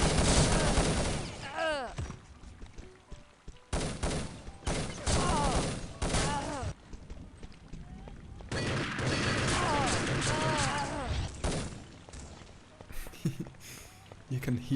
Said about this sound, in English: You can hear that stupid PSG from a mile off.